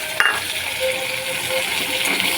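Kharkol leaves go into a hot pan and sizzle steadily with a bright, continuous hiss, a brief clink near the start and faint stirring noises underneath.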